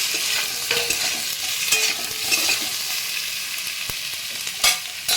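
Ground coriander, cumin, turmeric and ginger-green chilli paste sizzle in a pan for dhokar dalna, a steady close frying hiss broken by occasional stirring scrapes, with no talk.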